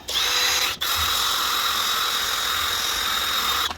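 A power tool sands thick paint off a car headlight with 800 grit sandpaper, a steady close whirring hiss that briefly cuts out near the start and stops at the end.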